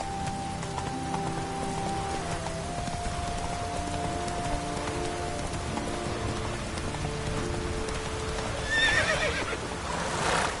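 A horse in The Witcher 3 gives a long whinny over steady rain, with hooves clip-clopping beneath and a second sharp neigh near the end.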